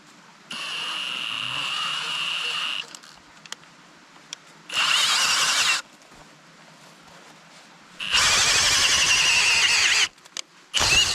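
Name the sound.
power drill drilling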